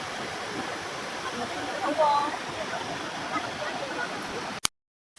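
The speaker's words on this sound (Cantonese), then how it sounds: "呢條就係東川河啦" Flowing water of the Higashikawa river beside an early morning market, a steady broadband rush heard from close by with a faint voice passing briefly, ending abruptly in silence.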